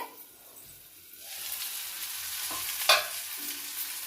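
Tomatoes and mint for a pudina chutney fry in a pan. A quiet start gives way to a rising steady sizzle, with a sharp scrape of stirring near the end, heard close and without talk.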